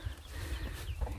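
Jungle fowl, a frizzle-feathered bird kept at a simple rural hill-village coop, clucks in a few short, close, low bursts over a steady murmur of farmyard background.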